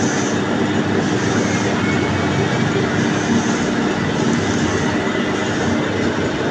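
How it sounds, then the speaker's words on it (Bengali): A lathe machine runs continuously, making a loud, steady mechanical roar with a faint whine. The noise holds even throughout, with no speech over it. "লেদ মেশিন চলতেছে"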